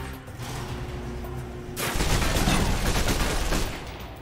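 Submachine gun fire in the Alpha Protocol video game: a dense, loud burst of rapid shots breaks in partway through and holds for about two seconds before easing off, following quieter game ambience.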